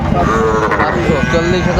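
A loud, sustained moo from Sahiwal cattle at a livestock market fills the whole stretch, deep and close, with a rough, droning tone.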